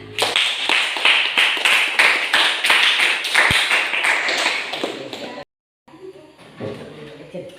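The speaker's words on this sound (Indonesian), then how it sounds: "berikan tepuk tangan untuk kelompok 4" A school class claps in unison for a student group after its presentation, about a dozen sharp, evenly spaced claps that stop abruptly, followed by a brief pause and faint voices.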